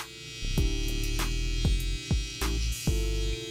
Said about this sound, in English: I like to use the trimmer here.